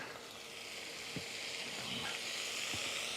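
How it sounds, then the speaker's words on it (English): Cooked peas stirred into a pan of sizzling food, a steady frying hiss throughout with a couple of soft scraping stir strokes. "Stir in gently now, we don't want to squash the peas."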